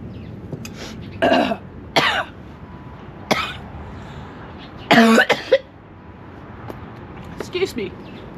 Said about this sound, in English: Coughing was the wrong idea.